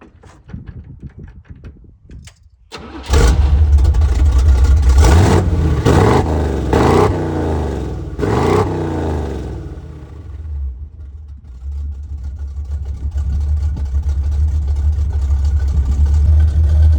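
An old Chevy with an aftermarket SS Camaro exhaust and resonator barks awake, then revs hard in five or six loud surging blips before settling into a deep, rumbling idle that swells again near the end.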